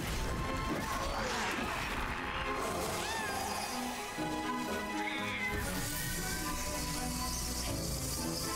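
Cats meow repeatedly inside the 2019 MediEvil video game, mixed with busy game effects, crashes and whacks throughout.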